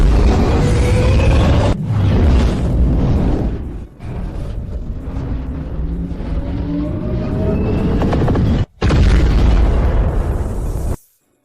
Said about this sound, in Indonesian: Meriam utama mengisi daya dan menembak.